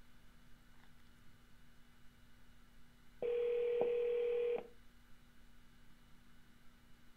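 A telephone line tone sounds alone for a bit over a second with a brief click in the middle, steady and clear against a quiet background hum.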